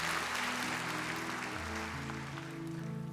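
A church congregation at a Sunday worship service applauds, a wash of clapping spread through the room and blended under sustained organ-like chords that shift pitch midway.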